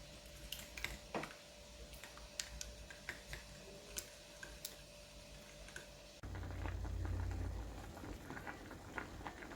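Eggs seasoned with salt being whisked in a bowl, heard as a quick run of light, sharp ticking clicks of the whisk against the sides, followed by a duller, steadier background rumble.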